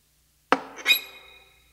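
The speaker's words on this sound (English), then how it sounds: "that's the sound of a mouse being caught in a mouse trap" A mousetrap snaps shut on a mouse in the back room of a farmhouse: one sharp, close snap followed by a second metallic clank and a short ringing decay, with no talk.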